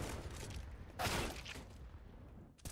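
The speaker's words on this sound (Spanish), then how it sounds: "Mete miedo con esos tiros, man" Gunfire during a competitive Counter-Strike match on the Vertigo map, with a dense burst of shots around the middle over steady game noise and another sharp report near the end.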